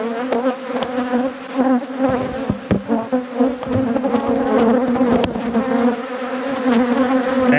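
Honey bees buzz steadily and loudly in an open nuc hive, a dense close-up drone with a sustained hum and a few brief knocks throughout.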